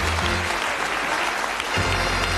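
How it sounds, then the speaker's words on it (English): Studio audience on a UK game show claps in a dense, sustained round of applause that fills the room, swelling slightly toward the end. "Give them a nice, encouraging round of applause."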